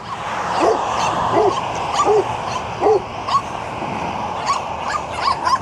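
Dogs bark in a string of short yips and woofs at a moderate distance, roughly a dozen calls spaced about a second apart, over a steady background hiss.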